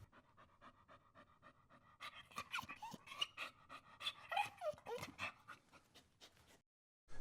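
A dog pants rapidly and rhythmically up close, with a few soft whimpers mixed in before it stops abruptly.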